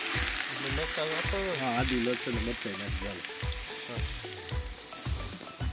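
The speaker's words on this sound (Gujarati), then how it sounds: "ડુંગળીનો વઘાર થાય છે, બ્રાઉન થાય ત્યાં સુધી રાખવાનું છે" Steady, loud sizzling of onions frying in oil, with a voice-like tonal sound running over it.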